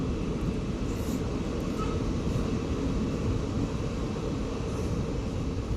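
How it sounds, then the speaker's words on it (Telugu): Passenger train 17662 pulls away after a halt, a steady, dense rumble of wheels and wind noise heard from on board, continuous and fairly loud with no speech. "ఇక్కడ కూడా 1 నిమిషం హాల్ట్ తర్వాత మన ట్రైన్ తిరిగి బయలుదేరింది"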